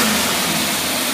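A car engine fitted with an AFB Carter carburetor revs loudly and steadily up close, holding a sustained roar with no pauses.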